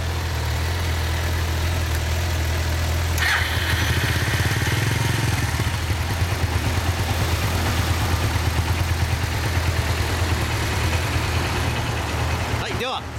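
A Suzuki Volty 250 motorcycle engine starts and settles into a steady idle, close and loud, with a low rumbling pulse running under background noise for most of the stretch.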